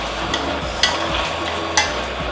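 Beef, tomato and pickled mustard greens being stirred together in a braising pot, giving a soft continuous scraping with two sharper clacks of the utensil against the pot over a steady low background.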